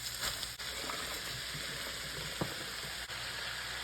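Cabbage frying with garlic in a pan, a steady close sizzle broken by a few soft stirring knocks.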